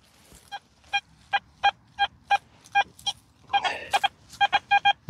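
Repeated short electronic beeps from an XP Deus 2 metal detector sweeping over a target, about a dozen evenly spaced pulses with a denser burst midway, close and clear over faint background noise.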